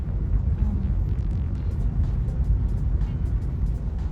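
Car driving right behind a convoy of supercars on the road, a loud steady engine and road rumble heard from inside, with faint whooshes of other vehicles.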